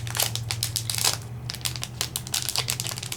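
Crinkling and crumpling of plastic packaging as a new magnetic platform for a Sizzix Big Shot die-cutting machine is pulled out, close-up bursts of rustling over a steady low hum.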